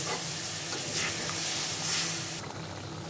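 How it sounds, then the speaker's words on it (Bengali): Tengra fish with roe in a pan as a little water is added, giving a loud, broad, steady sizzle and hiss, close up, that drops away slightly toward the end. "আমি অল্প একটু জল দিয়ে দিচ্ছি।"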